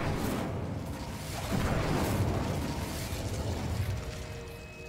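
Incendio fire spell cast in the video game Hogwarts Legacy, a sustained roaring burst of flame that swells near the middle and then slowly tapers, loud and dense throughout, with no talking.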